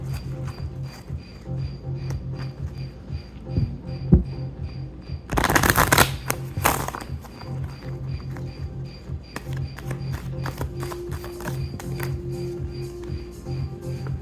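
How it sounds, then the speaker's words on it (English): Tarot cards shuffled by hand nearby: a dense riffling burst lasting about a second and a half, surrounded by lighter taps and card handling, with no talking. "I feel called to do another shuffle."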